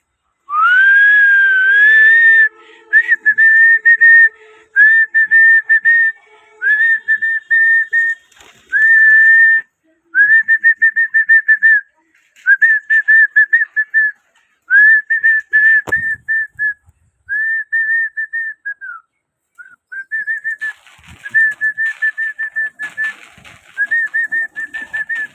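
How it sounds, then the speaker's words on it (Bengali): Repeated human whistles call pigeons to feed, a long rising whistle followed by a steady series of short, close, bright whistle bursts with brief gaps, faint cooing and wing flutters in the background. "দেখেন শীষ দেওয়ার লগে লগে সব কবুতর খেতে চলে আসছে"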